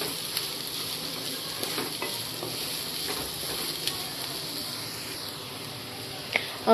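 Onion fries in oil while being stirred in a pan, giving a continuous soft sizzle with occasional scraping clicks from the stirring, fairly faint and close.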